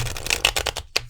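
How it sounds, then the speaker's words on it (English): An oracle card deck is shuffled by hand: a quick run of crisp riffling, flicking bursts over about a second, close and clear, ending in a brief pause and one final snap of cards. "I've been not very good at shuffling this deck today"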